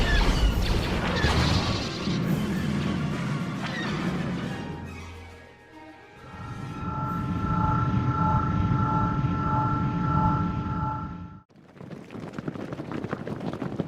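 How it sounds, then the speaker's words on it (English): Attacking starships streak past in an audio comic sound effect, a loud roaring whoosh that builds and fades, followed by a sustained whining engine drone and a sudden cutoff into another rushing burst. "Waiting for the attacking ships to pass them by."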